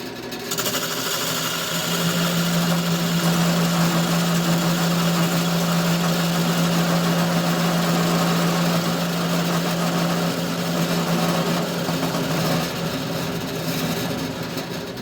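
A chisel rotated into a knife-like cut, parting the middle off a turning burl wood lidded box, giving a loud, steady whirring drone with an even tone that holds for most of the stretch, with no voices.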